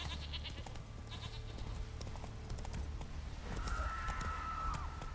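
Hooves of the horse Roach clip-clop in a quick galloping rhythm in The Witcher 3, close and steady, with a brief animal-like call partway through.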